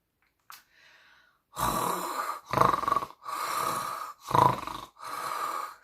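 A voice imitates snoring: after a faint breath, five loud, drawn-out snoring snorts repeat in a slow, steady rhythm, close and alone.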